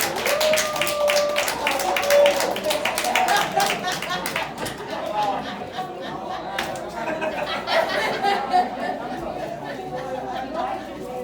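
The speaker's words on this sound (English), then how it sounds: "Really applause like it's a Broadway play." Comedy club audience at a tavern claps and chatters in a steady wash of applause, with scattered chuckles and murmured voices mixed in throughout.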